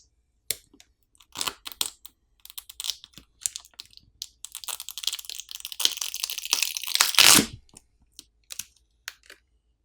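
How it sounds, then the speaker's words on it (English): Realme 9i smartphone battery being pried off its frame with the pull tab: scattered clicks and crinkly scraping build into a loud, dense peeling tear near the end, followed by a few soft taps, close and with no talking. "To remove the battery, there's a pull tab provided to help pry the battery off."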